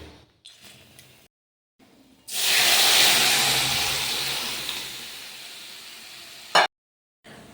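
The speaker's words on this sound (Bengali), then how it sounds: "তেল 5 ফোড়ন দিয়ে ছুঁকে দিলাম" Spices sizzle loudly in hot oil as cooked lentil dal made with bottle gourd is tempered with five-spice, a sudden bright hiss that bursts in, then slowly fades over several seconds, with brief quiet kitchen noises before and after.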